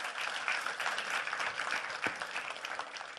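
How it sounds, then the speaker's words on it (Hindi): Audience applause at a Ram Katha gathering, a steady crowd of hands clapping at moderate volume for about three seconds without a break. "उनके लिए तालियां बजनी चाहिए"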